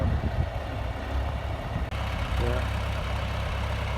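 A farm tractor idles steadily close by during cattle feeding, a continuous low, throbbing engine drone with a brief clunk partway through and no talking.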